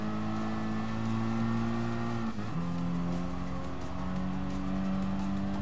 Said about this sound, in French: Tu regardes ce genre de vidéo de course avec le bruit des moteurs.